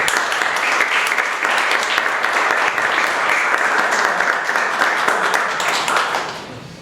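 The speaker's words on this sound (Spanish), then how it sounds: "Pido de vuelta un aplauso para él." An audience at a year-end masterclass event gives steady, dense applause, many hands clapping at once, loud and sustained before it tapers off at the end.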